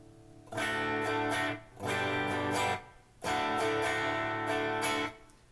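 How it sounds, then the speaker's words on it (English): Bright, distorted electric guitar chords on the bridge pickup of a parts-caster with a Floyd Rose system, played through an Orange Dual Baby amp, strike in three bursts separated by short gaps, loud with sharp attacks and a gritty, edgy tone. "you'll hear how much hotter and brighter it is when I go to the bridge"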